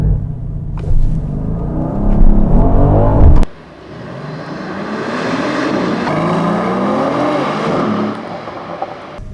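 A 2020 Mercedes-AMG GLE 53 roars hard off the line in a drag race, its loud engine climbing through the revs before a sharp shift drops it into a steady, lower, rising drone.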